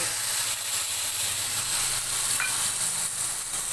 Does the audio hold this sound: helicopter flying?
no